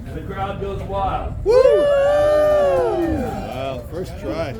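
A small group of cruise passengers on a crab fishermen's tour whoops and cheers in loud, rising voices after a moment of chatter, with the cheering held for a few seconds before it fades.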